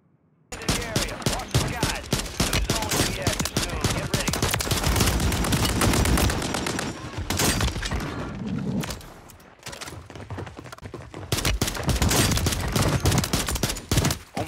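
Rapid bursts of MTZ Interceptor gunfire in a first-person shooter video game, loud and dense, firing almost continuously with short pauses between volleys and no talking.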